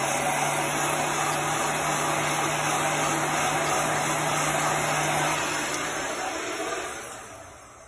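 A hand-held dryer blows hot air over wet chalk paste on a sign, making a steady, loud, close rushing whir that runs continuously and fades near the end.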